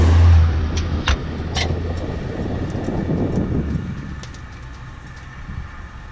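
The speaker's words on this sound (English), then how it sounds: "That was my little brother's car that just went past." A car drives past outside a home garage, its engine and tyre noise swelling and then fading away over several seconds, with no talking.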